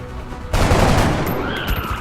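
Gunfire in the video game XCOM, a sudden loud burst of rapid shots that erupts and sustains as a dense rattling volley, fading slightly with ringing echoes at the end.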